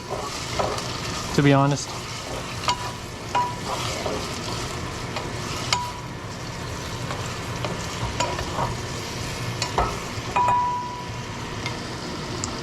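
Beef and pepper stir-fry sizzling in a pan, a continuous close crackle broken by scrapes and knocks of a wooden spatula, with a brief spoken remark partway through.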